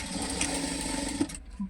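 A home sewing machine stitches fabric for a four-cut handbag in a short, close, busy mechanical run that stops abruptly near the end.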